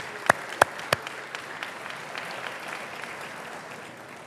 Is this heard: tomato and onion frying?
no